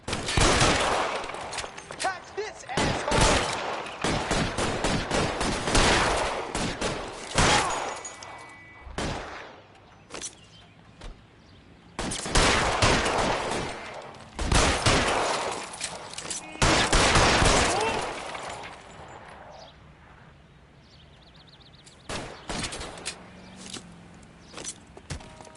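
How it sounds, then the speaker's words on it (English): Gunfire crackles through a shootout in the video game LA Noire: clustered bursts of sharp shots and rapid volleys, loud and close, separated by quieter gaps. "Lay down some covering fire."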